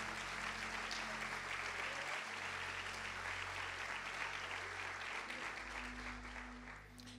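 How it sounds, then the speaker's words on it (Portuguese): A church audience claps together in sustained applause, dense and continuous, spread across a large room at a moderate distance, fading slightly toward the end. "Dê um aplauso a Jesus."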